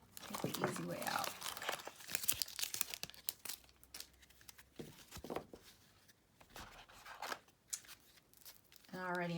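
Scissors snip and tear at clear plastic wrap on a tarot deck, with close crinkling, crackling and scattered sharp cuts. The sounds come in uneven bursts, with short quiet gaps between them.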